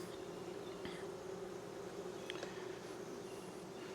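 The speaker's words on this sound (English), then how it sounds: "So there is a lot of bees in here" Honey bees fill an opened hive during a Demaree split, giving a dense, steady buzz with no pauses, close and enveloping, with no one talking.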